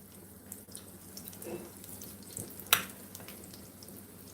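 A test piece of salmon patty made with green onion, cornmeal and flour fries in freshly added hot oil, giving a soft, low sizzle with a brief sharper spatter near the end.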